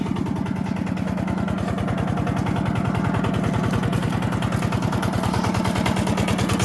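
A T-40 tractor's engine runs during a potato harvest, a steady, loud low-pitched diesel chugging with a fast even pulse throughout, close by and unbroken.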